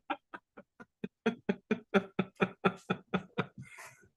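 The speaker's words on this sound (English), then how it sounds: "And there's a bunch of birds outside" A run of about fifteen sharp, evenly spaced bird calls just outside a front door, starting soft and growing louder and busier toward the end, heard alone without talk.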